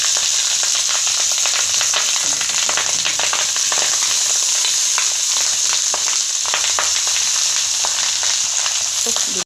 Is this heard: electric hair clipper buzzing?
no